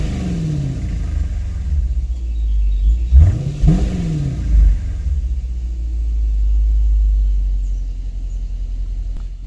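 A 2017 Dodge Durango R/T fitted with a Mopar aftermarket exhaust, idling with a deep, steady low rumble, then briefly revved twice near the middle before settling back to a throbbing idle, heard close beside a building.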